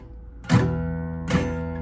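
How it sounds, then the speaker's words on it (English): Two loose strummed chords ring out from a cheap, out-of-tune acoustic guitar, each strum a bright attack that sustains and slowly decays, played alone with no talking. "they would have a very cheap sounding guitar"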